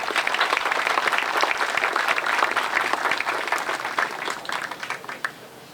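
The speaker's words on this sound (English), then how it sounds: "Give yourselves a round of applause for creating the community wreath today." A crowd applauds at an outdoor Memorial Day ceremony in Fort Walton Beach, Florida, a steady wash of many hands clapping that holds for several seconds before tapering off into a few scattered claps.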